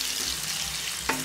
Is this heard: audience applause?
no